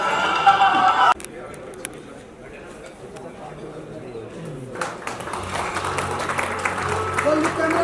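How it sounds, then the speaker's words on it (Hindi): An audience at an awards ceremony for journalists applauds, with broad clapping most evident early and building again later, mixed with a crowd murmur and a person talking. "तालियां बजती रहे, जोर से बजे, ताकि मंच पर जो है उनको भी उत्साह मिले।"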